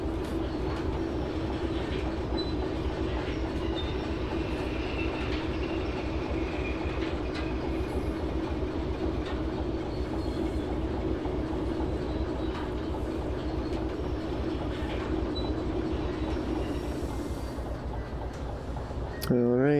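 Railway cars roll and coast along the track in the Derail Valley train simulator, a steady low rumble with faint clicking, continuous and fairly loud throughout.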